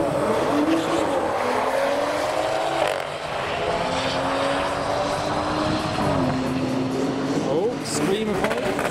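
Everyday road-legal modified Honda Civic screams through a drag race at a car show, engine revs rising and shifting in pitch in sweeping runs, loud and close, with people talking over it.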